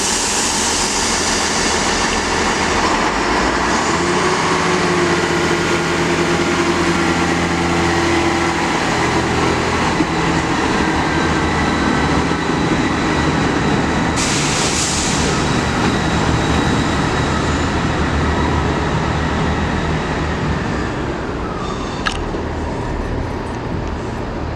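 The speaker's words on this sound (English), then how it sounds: "Departing now is the 1124 Transport for Rail service to Holyhead." A Transport for Wales Class 158 diesel multiple unit departs Chester for Holyhead, its engine droning loud and near as it pulls away, with rising rumble and a brief high squeal partway through.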